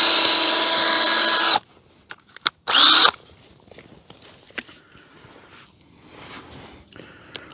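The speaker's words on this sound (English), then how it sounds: "It is nice to have more than one screw gun though." A cordless screw gun drives screws while chicken tractors are built outdoors: a long, loud whine of about a second and a half, then a short second burst after a pause, with scattered knocks and footsteps between.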